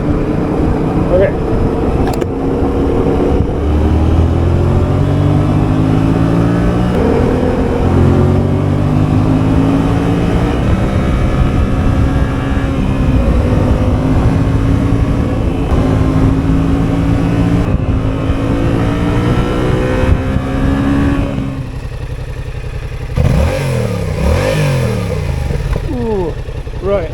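A Yamaha XSR700 motorcycle engine pulls hard at speed, rising and falling in pitch through several gear changes over a long stretch of close, loud riding, with wind noise and a voice now and then.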